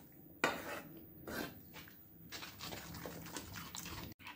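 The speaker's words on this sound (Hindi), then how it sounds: "और अच्छी तरह से पहले मिक्स कर लेती हूँ।" Rice flour batter is stirred in a pan, with a couple of louder clanks at the start followed by soft, continuous scraping and sloshing strokes. The sounds are close but quiet, with no talking.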